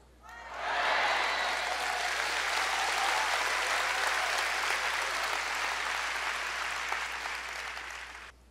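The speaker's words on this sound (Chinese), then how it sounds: "现在你会鼓掌，如果在你教会中，你会不会鼓掌？" A church congregation breaks into sustained applause that swells quickly and holds at an even, dense level for several seconds before tapering off.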